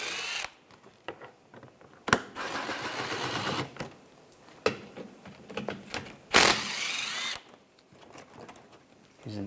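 A 10mm socket on a ratchet or power tool pulls bolts from the exhaust manifold catalytic converter assembly of a 2013-2016 Dodge Dart, in bursts of whirring and clicking separated by quiet gaps.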